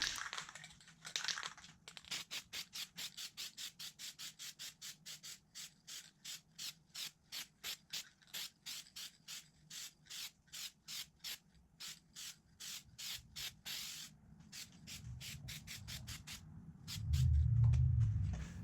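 Rhythmic brushing of WeatherGuard wood sealer onto a wooden door threshold, a long run of close, regular strokes, dense and even through the middle, then a few slower passes at the end.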